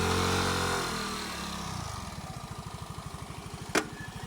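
A motorcycle engine idles on a mountain road, its steady rapid putter close and alone, starting after a brief rougher stretch and running evenly, with one short sharp knock partway through.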